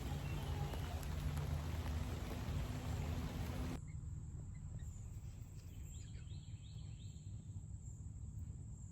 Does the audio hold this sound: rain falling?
yes